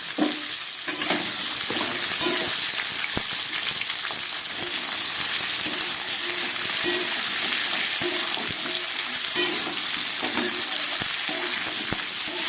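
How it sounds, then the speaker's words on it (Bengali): Chopped vegetables fry in a pan for arhar dal, a loud continuous sizzling hiss close up with intermittent scraping and stirring sounds from a utensil, steady throughout and without voices. "খুব ভালো করে এবার আমি সবজিটাকে ভেজে নেব।"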